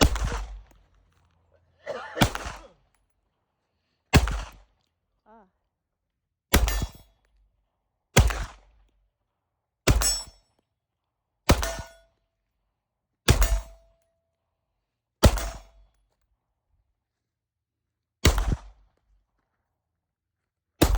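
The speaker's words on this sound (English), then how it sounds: "There's some quick shooting footage of it." A Springfield Prodigy 5-inch double-stack 2011 pistol fired outdoors in about ten sharp, loud shots spaced a second or two apart, each ringing briefly before near silence, with one longer pause near the end.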